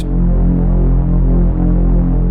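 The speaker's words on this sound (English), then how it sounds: "you can hear that there's that reverb on it" A deep, steady Reese-style synth bass drone from an Elektron Digitone II throbs with a washy reverb tail, loud and sustained on its own.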